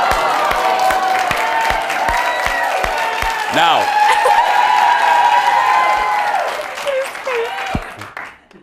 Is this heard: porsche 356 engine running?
no